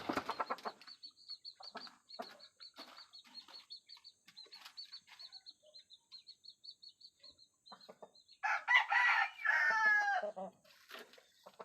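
A hen looking to lay eggs in the grass clucks in a steady run of soft, rhythmic calls close by, then breaks into a louder, agitated squawking burst before settling.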